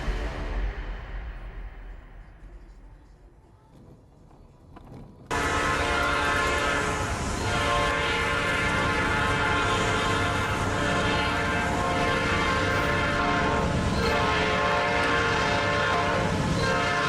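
A train passes extremely close in a town, a loud sustained roar of wheels and cars that begins abruptly after a fading rumble and continues at full strength to the end.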